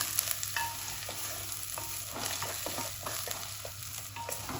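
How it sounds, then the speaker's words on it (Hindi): Food fries in a pan with a soft continuous sizzle, broken by scraping stirs of a spoon against the pan. "इनको फ्राई करेंगे जब तक कि इनका कलर नहीं चेंज हो जाता।"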